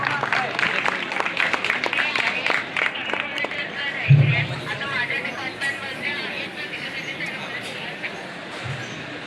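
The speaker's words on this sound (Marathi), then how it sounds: "काय होऊन जाते जोरदार टाळ्या" An audience at a college walkathon event claps in scattered bursts that thin out, mixed with crowd chatter and a voice talking over the room, with a sharp thump midway.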